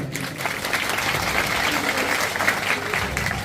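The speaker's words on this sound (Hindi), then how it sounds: "ताली बजा सकते हैं" A gathering claps together in steady, continuous applause that fills the whole stretch, broad and moderately loud, with no speech over it.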